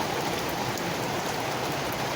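Rain falling steadily on a hot summer day, a dense, even hiss of drops on surfaces, close and constant with no voices.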